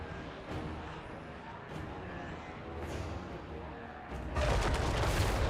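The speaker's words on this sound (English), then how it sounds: "Cannons are now focusing him." Cannons fire in a video game tournament match, a low rolling rumble of in-game bombardment that swells into a loud, sustained blast near the end.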